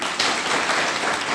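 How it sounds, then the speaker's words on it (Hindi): Students in a classroom at a girls' residential school break into a brief burst of hand-clapping applause, dense and fairly loud, lasting just over a second. "ताली बजाओ।"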